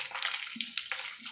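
Cashews fry in hot ghee in a pan, giving a soft, continuous sizzle with scattered pops and crackles, close and moderately quiet with no voices.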